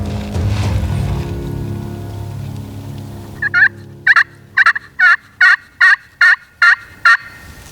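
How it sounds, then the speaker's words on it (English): A wild turkey tom gobbling from a ridge during a spring hunt, a loud series of about ten sharp, evenly spaced gobbling notes following a rustling start, fairly close and with no talk. "that tom gobbled, and he wasn't far down off the ridge."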